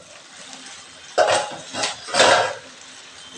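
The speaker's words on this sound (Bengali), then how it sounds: "ঢাকাটা একটু খুলে দেখব।" A lid is lifted off a pot of meat curry simmering on low flame, giving a short metallic scrape and clatter followed by a couple of soft knocks, close and fairly loud over steady background hiss.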